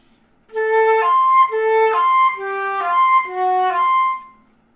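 A flute plays a slow phrase of sustained, pure-toned harmonic notes, four long tones with small changes between them, clear and close with no talking.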